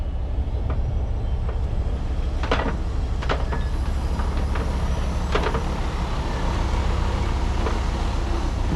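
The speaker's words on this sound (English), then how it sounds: "He's gonna bring the heavy haul around the shop, hook it up to the trailer" A heavy haul truck rumbles steadily around a muddy ranch shop, a constant low engine drone from middle distance, broken by occasional sharp squeaks and clanks as it shifts and slips, with no voices.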